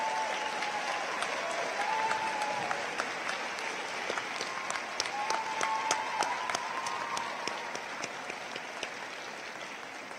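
A large commencement crowd applauds honor students, sustained dense clapping with sharp individual claps standing out and a few cheering voices, easing off slightly toward the end.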